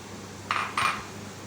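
Two cups of shallots are tipped into a pan for beef roast, making two quick metallic clatters close together, then quiet.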